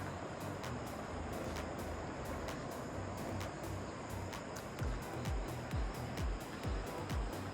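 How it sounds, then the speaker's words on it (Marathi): Ocean waves rolling onto the beach in front of beachfront villas at Ratnagiri, a faint steady wash of surf with soft low thumps near the end. "समोर समुद्र आहे लाटांचा आवाज ऐकायचा"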